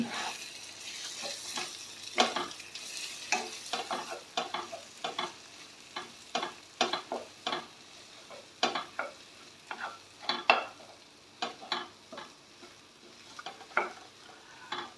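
Egg frying in a pan with ridge gourd curry while being stirred, quiet sizzling under repeated sharp scrapes and taps of a spatula in an uneven rhythm, close up and with no talking.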